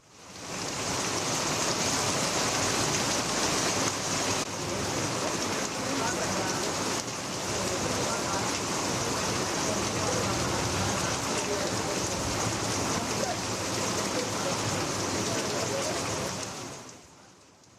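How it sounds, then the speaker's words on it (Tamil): Heavy rain pouring down in Chidambaram, Cuddalore district, a dense, loud, continuous hiss of downpour that holds steady for the whole stretch before fading at the end. "கடலூர் மாவட்டம் சிதம்பரம் சுற்றுவட்டார பகுதிகளில் இடி மின்னலுடன் கனமழை வெளுத்து வாங்குகிறது"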